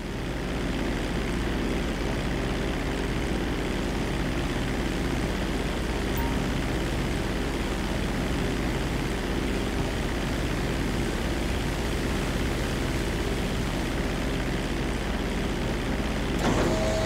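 A low-flying propeller airplane in GTA drones steadily and loudly for the whole stretch, a dense continuous engine roar with no voices, swelling slightly near the end.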